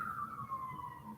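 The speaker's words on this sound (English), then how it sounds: "Sirens" A faint emergency-vehicle siren wails steadily in the distance, a single slowly falling tone with low background rumble.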